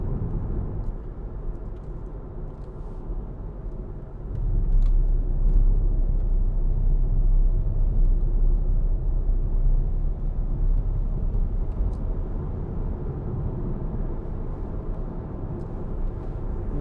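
A 2013 Hyundai ix35 2.0 CRDi 4WD diesel accelerates on the road, a steady low engine and road rumble from inside the cabin that swells partway through, with no talk.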